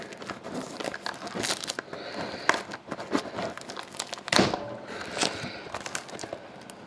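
A 2011-12 Panini Titanium hockey card pack wrapper being torn open by hand, giving several sharp rips and crinkles of foil plastic, close and fairly quiet, with brief handling noises between.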